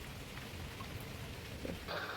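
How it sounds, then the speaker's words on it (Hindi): Steady rain falls in Dehradun, a dense, even hiss of drops on surfaces heard close and continuous, with no voices. "यहाँ पे बारिश आ रही है"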